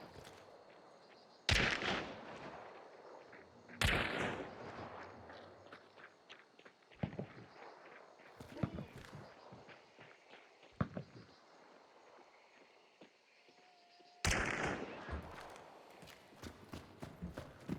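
Gunfire in the Hunt: Showdown video game, several loud sharp shots at irregular intervals, some nearby and some more distant, mixed with footsteps and hoofbeat-like clopping between them.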